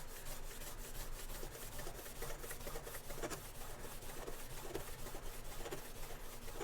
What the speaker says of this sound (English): So I think I'm just going to lightly Scotch-Brite it just to get rid of that